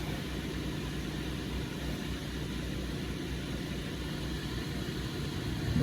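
A sailboat's air conditioning unit runs with a steady broadband whoosh and low hum of its blower, close and constant, with a slight rise in loudness at the very end.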